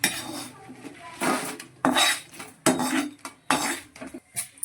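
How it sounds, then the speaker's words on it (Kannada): A spatula scrapes and clatters in a pan of frying coriander seeds and black pepper for a Mangalorean tuna curry, several loud bursts of stirring separated by quieter gaps. "ಕೊತ್ತಂಬರಿ, ಕರಿಮೆಣಸು ಎರಡು ಚೆನ್ನಾಗಿ ಫ್ರೈ ಆಗ್ತಿದೆ"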